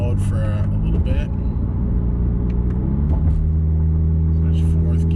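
A Subaru XV Crosstrek with a muffler delete cruises on the highway at about 40 mph and low RPM. From inside the car, a steady low engine drone and rumble continue throughout, with a voice briefly heard at the start.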